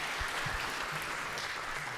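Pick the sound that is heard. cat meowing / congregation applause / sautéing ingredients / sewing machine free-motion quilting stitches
congregation applause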